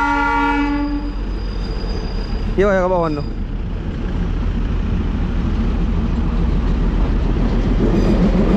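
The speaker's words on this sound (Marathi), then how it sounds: "ही बघा पहाटे ट्रेन" A Darjeeling hill train sounds its horn in a long blast, then rumbles past close by with steady rolling clatter; someone speaks briefly over it.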